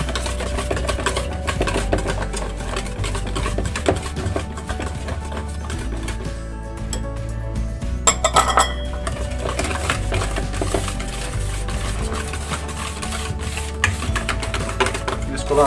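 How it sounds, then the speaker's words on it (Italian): Apple cake batter is beaten vigorously in a bowl, a fast, continuous rattling and tapping of a whisk or spoon against the bowl that keeps up for the whole stretch, with a brief louder clatter midway. "Mescolate energicamente per far sì che non vengano grumi."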